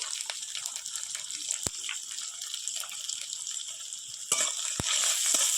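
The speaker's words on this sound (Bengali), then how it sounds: "এবার পেঁয়াজটা হালকা ভাজা হয়ে গেছে" Sliced onions sizzle steadily in a pan with ginger paste and slit green chilies, a continuous close frying hiss broken by a few sharp clicks and pops, with no talking.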